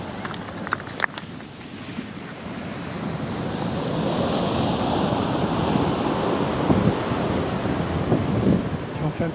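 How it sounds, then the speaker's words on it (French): Small waves break at the St. Paul bay jetty at dusk, a rolling wash that builds and stays steady, with wind buffeting the microphone and a few faint knocks early on. "On a des belles petites vagues."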